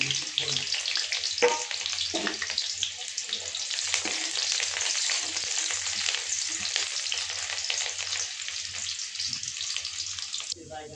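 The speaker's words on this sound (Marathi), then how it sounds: "मी ह्याच्यात कांदा टाकते कापल्याला। कांदा चांगला फ्राय करून घेऊ।" Chopped onion frying in hot oil for a Maharashtrian fish curry, a loud continuous crackling sizzle that holds steady for the whole stretch, with no voices over it.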